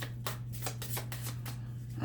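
Rapid riffling bursts of playing cards being shuffled up close, a quick flurry of crisp flaps with no talking.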